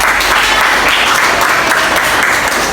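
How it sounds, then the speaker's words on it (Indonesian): Classmates in a school classroom give a student a loud, dense burst of applause, continuous clapping filling the short moment up close. "Tepuk tangan dulu dong."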